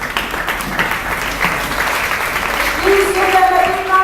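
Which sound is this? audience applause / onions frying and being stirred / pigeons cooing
audience applause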